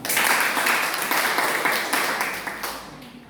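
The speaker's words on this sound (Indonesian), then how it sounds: "Oke, tepuk tangan dulu" A classroom group applauds on cue during a lesson, brisk clapping that starts loud and gradually thins and fades over a few seconds.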